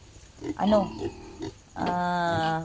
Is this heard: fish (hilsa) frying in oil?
no